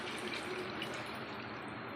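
Water poured from a bowl of washed-out marinade into a pot of chicken, a continuous soft gushing splash lasting two seconds at low, even volume.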